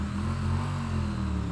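A 2022 Triumph Bonneville T100 heritage roadster engine hums with a steady, close mid-pitched drone as it accelerates, with no voices.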